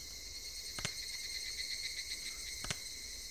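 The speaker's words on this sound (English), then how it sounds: "Oh, I'll listen to some nice cicadas." Cicadas in the video game Higurashi When They Cry keep up a steady, shrill, droning buzz in the background, joined by two faint soft ticks, with no voices.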